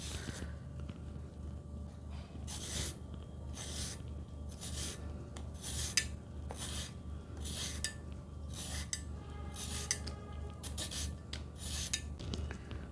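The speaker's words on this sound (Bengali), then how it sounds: "ধুয়ে এবার ছুলে নেব শশাটা" A washed cucumber being peeled for a cucumber noodle salad, giving a series of short, scraping rasps in a steady rhythm, close and fairly clear over a low background hum, with no talking.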